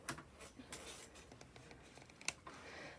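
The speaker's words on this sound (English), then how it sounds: "plain old craft scissors to cut my plastic canvas" Plain craft scissors snip through a sheet of plastic canvas, a few faint, quick crisp cuts and rustles close by.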